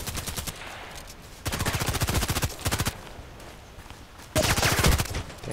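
Machine-gun fire in the shooter game ADXsniper 6 comes in three rapid, evenly spaced bursts, each lasting about a second or more, with quieter pauses in between.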